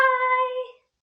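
A single short meow, steady and fairly loud, fading out after under a second, followed by silence.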